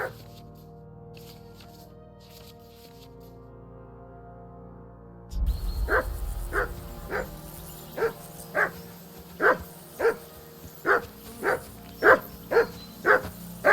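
A dog barks repeatedly in a medieval village setting in the game Kingdom Come: Deliverance II, sharp regular barks about once a second over a low ambient background.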